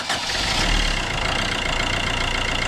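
A garden tractor engine, fitted with a Yuasa Garden U1 battery, cranks briefly and then settles into a steady, loud idle with a fast even chug, heard up close.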